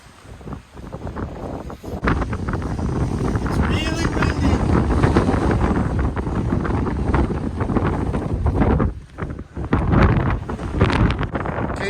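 Strong wind on a steep tower staircase buffets the microphone in a loud, gusty rumble that briefly dips before surging again.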